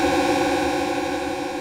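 Arturia MicroFreak synth pad thickened with heavy unison spread, a dense sustained buzzing tone that holds steady and loud for the whole stretch, slightly gritty, with no talking.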